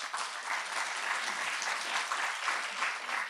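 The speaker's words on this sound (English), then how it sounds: "A lot of applause for them." Audience applause at a public talk on government accountability, a dense, even wash of many hands clapping at once, sustained and fairly loud throughout.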